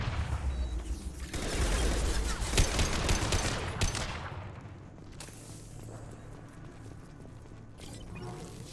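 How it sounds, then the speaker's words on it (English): Gunfire in the Mass Effect 2 video game, a dense fusillade of shots and a heavy high-impact blast early on, then quieter rattling fire trailing off. "Firing a high-impact shot."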